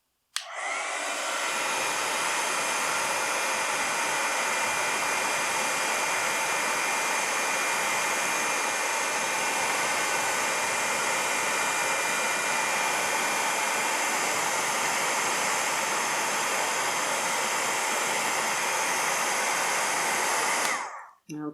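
A heat embossing tool blows steadily to set embossing powder on a mixed media craft piece, a loud, close, unbroken whooshing roar like a hair dryer that runs for about twenty seconds and then cuts off.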